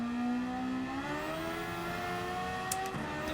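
A race car engine in Gran Turismo 7, fitted with a swapped engine, revs toward about 12,000 RPM as a loud, sustained climbing whine with layered harmonics, heard alone, dipping briefly near the end.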